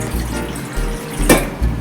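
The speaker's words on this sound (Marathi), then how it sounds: "त्याच्यावर भांडं ठेवू आणि पाणी ओतून घेऊया" Water pours into a cooking pot on a gas stove in a continuous close splashing stream that surges briefly near the end.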